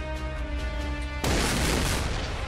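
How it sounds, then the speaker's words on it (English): Firework weapon explosions in the artillery video game Shellshock Live: a sudden loud boom bursts over a steady game music bed and trails into a crackling, scattered rumble, with no talking. "Oh, there's the fireworks."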